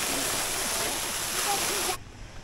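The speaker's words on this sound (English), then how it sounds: "So these cheeky little elephants got the hose, and now there is a water feature." Water gushing from a hose that young elephants are playing with at a Chiang Mai elephant sanctuary, a steady rushing splash that cuts off abruptly near the end.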